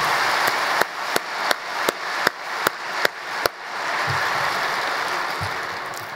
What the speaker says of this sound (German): ist in meinen Augen auch einfach mal einen Applaus wert für die Herren aus dem Vorstand